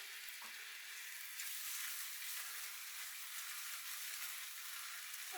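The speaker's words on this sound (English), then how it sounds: "adding a little bit of liquid to it, and then we fry it down again" Curry paste frying down again in a pan after a splash of liquid goes in, for a king prawn curry: a steady, close, dense sizzle that holds evenly throughout with no talking.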